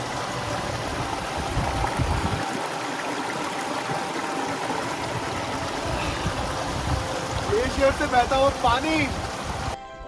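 Glacier meltwater stream rushing steadily on a winter Kedarkantha mountain trek, a continuous close wash of flowing water with a brief voice-like sound near the end.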